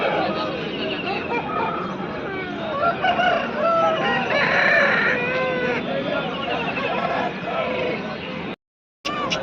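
Roosters crow repeatedly amid clucking hens at the Nallapadu village poultry market, where black country fowl are sold, with steady crowd chatter and voices throughout close by, and a brief dropout near the end.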